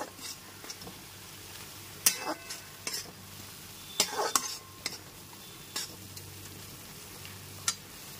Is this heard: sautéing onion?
yes